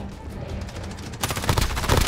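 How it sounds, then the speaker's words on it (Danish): Gunfire aimed at zombies in Call of Duty: Modern Warfare's Warzone: rapid, repeated shots, distant and moderate at first, then a louder, closer burst of fast automatic fire. "Der er nogen, der skyder efter dem."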